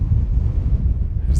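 Strong wind blowing outdoors at a former glacier site in the American West, a loud, steady low rumble buffeting the microphone throughout without letup.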